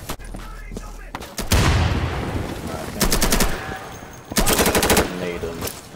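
Automatic weapons fire in a match of the shooter game Insurgency, several loud bursts of rapid rattling shots separated by short pauses, with a voice briefly talking between them.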